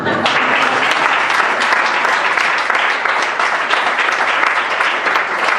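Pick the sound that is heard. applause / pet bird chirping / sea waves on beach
applause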